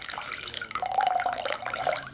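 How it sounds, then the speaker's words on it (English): A liquid solution poured onto tzitzis, a steady close splashing, trickling stream of water running for a couple of seconds with no talking. "You pour the solution on it,"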